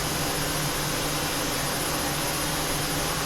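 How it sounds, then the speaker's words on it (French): An Embraer ERJ 170 jet engine in Microsoft Flight Simulator 2020 runs as a steady, dense turbine roar with a thin high whistle, constant and close, with no talk. "On va passer également le moteur numéro 1 sur Start. Il démarre également"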